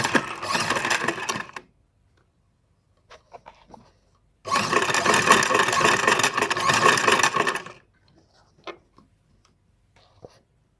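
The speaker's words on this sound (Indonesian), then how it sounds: "kita akan lanjutkan menyambung bagian tepi kain dengan kain sambungan dengan menggunakan mesin jahit" Sewing machine stitching the edge of a fabric piece onto a joining strip, heard as two loud bursts of whirring, the second about three seconds long, with quiet clicks and handling noises between.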